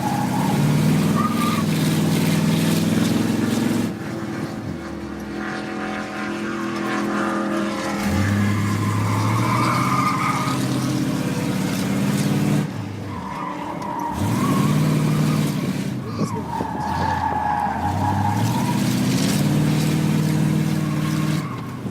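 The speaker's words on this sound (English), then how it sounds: "I love to push to the limits at the autocross, trying to beat my own time on every run." A street rod or muscle car runs an autocross course, its engine rising and dropping through repeated hard accelerations and gear changes, with tire skids between them, loud and close throughout.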